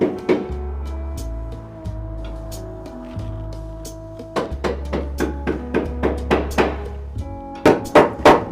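Hammer blows during a window and floor repair after a break-in, heard at a distance as a few scattered knocks and then a steady run of sharp, evenly spaced strikes over a low background hum.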